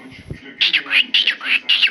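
A pet cockatiel gives a quick series of bright, high chirps, about five in a row, close by, after a brief low voice.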